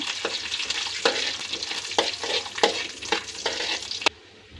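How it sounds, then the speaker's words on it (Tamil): Cashews frying in ghee for moong dal payasam, a steady sizzle broken by regular stirring scrapes about once a second, close and fairly loud, cutting off abruptly near the end. "முந்திரியை இந்த நெய்யில் வந்து லைட்டாக இப்படி கொஞ்சம் வதக்கி விடுங்க"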